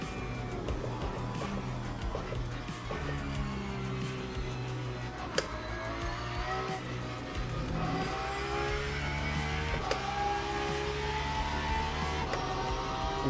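Racing video game car engines, including a Porsche, drone steadily with a layered harmonic roar and shifting pitch, holding at a constant loud level throughout with no talk.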